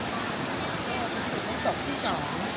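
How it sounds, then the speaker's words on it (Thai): A waterfall gives a steady, dense rushing roar at moderate level throughout, with faint brief voices barely rising above the water. "มีน้ำตกเห็นได้ยินเสียงนะ"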